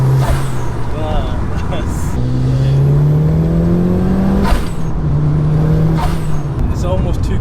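Hard acceleration from a 500 bhp Mitsubishi Evo 9 street car, a loud, steady engine note climbing in pitch through the gears, with a brief break at each shift and the whir of tyres and wind throughout.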